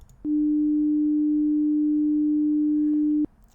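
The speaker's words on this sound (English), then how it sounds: "this pure note has been generated using a sine function on a computer" A pure sine wave note generated on a computer holds one steady, clean tone for about three seconds, starting and stopping abruptly against near silence.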